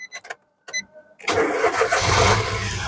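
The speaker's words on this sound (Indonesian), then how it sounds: "Terus barulah kita coba nyalakan mobil." A 2011 Nissan March 1.2 L manual hatchback cranks with a few short starter whirs, then catches and settles into a steady, loud idle, close and with no talk.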